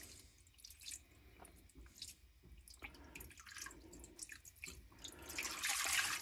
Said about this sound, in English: we'll pour in about, we'll get in about a half inch over the wood.